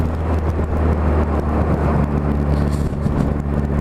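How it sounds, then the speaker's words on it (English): Turbocharged Toyota 4AG 20-valve 1600cc engine in a kart, a steady loud drone with low harmonic hum running throughout, roughened by wind buffeting on the microphone. "It's a 4AG 20 valve Toyota engine, 1600cc, and I have turbocharged that engine."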